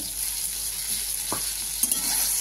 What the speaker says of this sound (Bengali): বন্ধুরা, আমার বেগুন ভাজা হয়ে গেছে, এবার আমি তুলে দিচ্ছি আস্তে আস্তে।